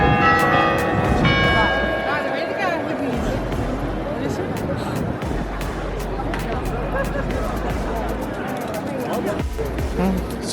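Church bells ringing across Dam Square in Amsterdam, bright repeated peals over a busy crowd hubbub and nearby talking.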